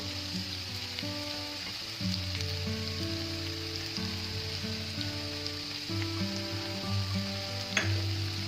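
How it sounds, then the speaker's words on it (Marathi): Beetroot sabzi with crushed peanut powder stir-frying in a pan: a steady close sizzle and crackle with soft stirring, alongside a low tonal hum in the background. "आणि आता मीठ व्यवस्थित घातलेलं आहे तर आता आपण हे परतवून घेऊया"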